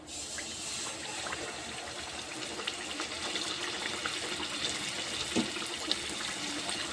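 Samosas frying in hot oil over a low flame, giving a steady, fine bubbling sizzle that holds evenly throughout, with a few faint crackles and pops mixed in.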